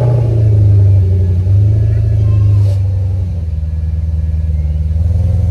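A V8 car engine, sitting unused for eight months, runs after a jump start from a TopDon JS2000 jump starter, a loud steady low rumble that settles slightly lower and rougher midway, with a person talking over it.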